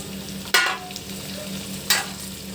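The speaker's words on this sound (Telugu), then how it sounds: "చూడండి బాగా అల్లం వెల్లుల్లి పేస్ట్ ఫ్రై అయ్యి బాగా మంచి స్మెల్ వస్తుందండి" Potato and carrot pieces stirred and frying in ginger garlic paste in a pan, a steady low sizzle broken by two sharp scraping stirs, close and loud with no talking.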